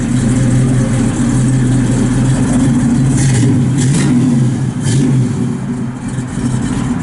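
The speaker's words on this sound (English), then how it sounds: "Got the factory exhaust manifolds and a nice dual exhaust out the back." A 1967 Chevrolet Chevelle SS 396 with factory exhaust manifolds and dual exhaust runs loud and close, its deep engine rumble holding steady with slight rises in revs throughout.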